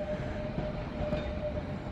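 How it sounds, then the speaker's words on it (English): A London Underground tube train at Ealing Broadway station runs with a steady rumbling rail roar and a faint sustained whine, moderately close, with no talking. "Another tube train."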